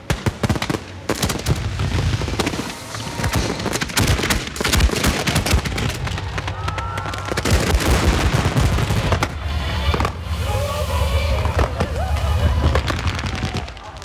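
Fireworks launched from a push-button electronic firing system, dense rapid crackling and booming volleys, loud and continuous, with voices heard amid the barrage.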